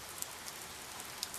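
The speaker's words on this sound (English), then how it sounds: "And yes, it's raining." Steady rain patters against window glass on a rainy night, a soft continuous hiss broken by a few brief louder drops, with no voices.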